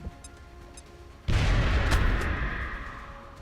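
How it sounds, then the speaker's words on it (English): A grenade goes off in a video game after an engineer character throws it: a sudden loud, broad blast at once, followed by a sustained rumbling roar with crackling debris that slowly fades over several seconds. "Throwing grenade"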